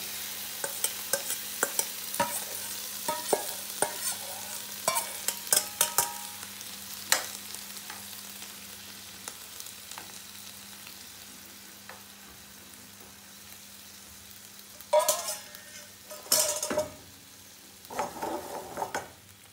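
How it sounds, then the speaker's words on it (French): Onions cook in olive oil in a pan for a vegetarian portobello burger, with a soft, continuous sizzle under irregular scraping stirs; louder clattering strokes come toward the end. "Les oignons qui sont en train de cuire."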